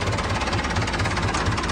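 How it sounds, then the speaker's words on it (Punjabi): A tractor engine runs nearby with a rapid, even knocking thump that repeats steadily, loud and unbroken, with no talk over it. "ਟਰੈਕਟਰ ਉਰੇ ਚੱਲਦਾ ਵਾ"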